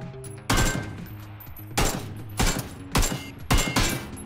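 Gunshots strike the side door of a Lamborghini in PUBG, arriving as four loud, sharp bursts spaced roughly a second apart over a steady low background hum.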